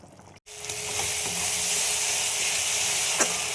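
Food cooks in a pan until it dries out, giving a steady, fairly loud broadband sizzle and hiss that runs almost unbroken after a brief silence near the start. A faint tonal hum sits underneath, with a single sharp tick near the end.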